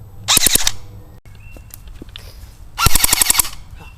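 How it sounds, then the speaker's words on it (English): An AGM Sten MKII airsoft gun fires full auto with a LiPo battery at about 900 rounds per minute, in two short, loud bursts of rapid clacking shots separated by a pause with faint handling noise. "Simply squeeze the trigger and you are blasting around 900 rounds per minute with a LiPo."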